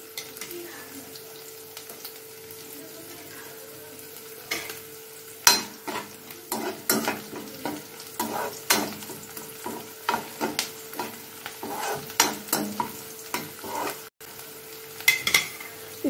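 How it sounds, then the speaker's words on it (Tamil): Green chilies sautéing in a pan with light sizzling under repeated spoon scrapes and stirring clatter against the metal, close and irregular. "இதையும் அதில் போட்டுங்க. இதுவும் நல்லா வதங்கட்டும்."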